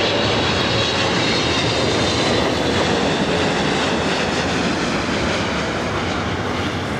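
Aircraft landing on runway 24 right at LAX: a loud, continuous roaring jet engine rumble held close and steady for the whole stretch, broadband and thunderous, with no voices.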